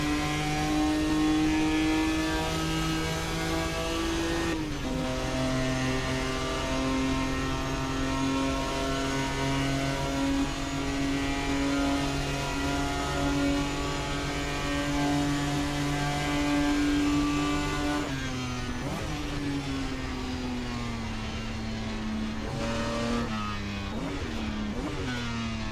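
A Ferrari race car in the Assetto Corsa racing game drones past with a loud, sustained engine tone, holding steady then dropping pitch with gear shifts and revving toward the end, with no talk.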